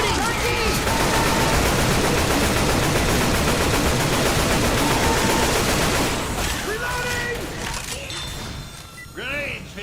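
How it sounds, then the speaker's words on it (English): Sustained loud automatic gunfire in a video game, a dense continuous rattle for about six seconds that thins into scattered shots with metallic mechanism clicks, while voices talk in the background. "Watch where you're shooting."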